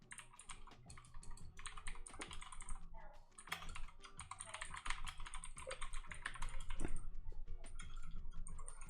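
Rapid clattering of fingers typing on a computer keyboard, dense bursts of close key clicks with brief pauses, loud and continuous throughout.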